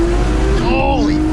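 A rebuilt Mazda Miata accelerates hard, its engine note steady and loud up close, then climbing sharply in pitch, with people talking over it.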